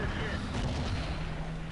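A single heavy tank cannon shot is fired at a Hetzer in a tank video game, a short booming blast with a rumbling tail, heard alone and loud.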